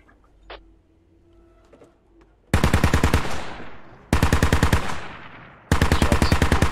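Automatic gunfire in the tactical shooter Squad: three loud, close bursts of rapid rattling shots, each cutting off abruptly, following a stretch of quiet low rumble and faint background noise.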